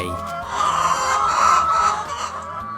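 Free-range chickens raised naturally on a Thai farm cluck in a dense, close, loud chorus that swells and fades over a few seconds, with no talking.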